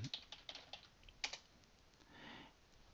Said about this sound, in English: So you just use your keyboard to go through each file in the list.